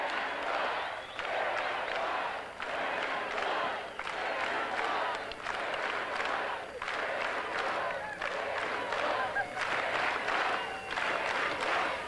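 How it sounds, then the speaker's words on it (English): Large crowd cheering and shouting continuously at the 1989 College World Series celebration for the Wichita State Shockers, a loud, sustained roar with surging waves and some clapping mixed in. "let's listen to the cheer of the crowd now"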